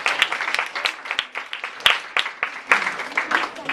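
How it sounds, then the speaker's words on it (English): An audience in a classroom showcase gives a round of applause with dense, uneven claps that rise and fall steadily throughout, fairly close. "So if we can give them a round of applause"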